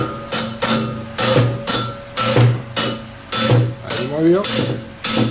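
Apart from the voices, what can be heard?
pushing out an engine oil dipstick on a Toyota 2C engine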